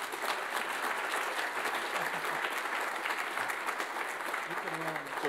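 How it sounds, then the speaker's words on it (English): An audience at a university executive lecture claps for guest speaker Scott Mitchell, a steady, dense round of applause filling the hall at an even level throughout. "Let's give a round of applause to Scott Mitchell."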